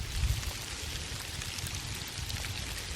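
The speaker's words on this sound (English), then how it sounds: "Feels like sleet more than snow. You can hear it hitting things. It's little pellets." Small sleet pellets fall outdoors at about 31 degrees and patter on surrounding surfaces in a soft, dense, continuous rain-like hiss with faint scattered ticks.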